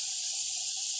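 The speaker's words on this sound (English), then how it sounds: "Okay, my canner has been venting. Can you see the little tiny puffs of steam?" Steam hisses steadily from a venting All American pressure canner during raw pack pork canning, a continuous bright hiss with no breaks.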